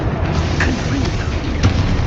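A Confringo spell explosion in the Hogwarts Legacy video game, a dense rumbling boom that fills the short clip with a few brief bursts, under a voice speaking.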